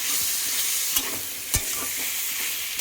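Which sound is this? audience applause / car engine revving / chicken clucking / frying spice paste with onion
frying spice paste with onion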